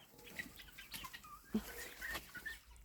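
Chickens clucking in scattered bursts as two young roosters fight, with a brief flutter of wings partway through, fairly quiet and close by.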